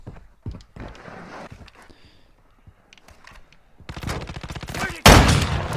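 Gunfire in the Call of Duty Mobile shooter game: scattered single shots and short bursts, then a dense, loud burst of rapid automatic fire near the end, with footstep-like taps and game effects between.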